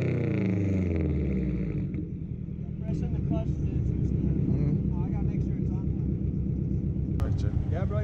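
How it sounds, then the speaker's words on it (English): A 2005 Subaru WRX STI engine revs in a steady, loud rumbling drone that rises and swells, with brief talk heard over it and a sharp click near the end. "Go ahead, rev it for me really quick."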